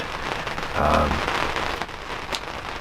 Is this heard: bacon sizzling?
no